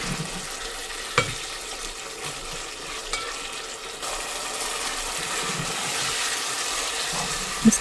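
Chicken gizzards sautéing in a spicy masala in a pot, a steady close sizzle and frying hiss with a few sharp scrapes and clinks from stirring, no talking.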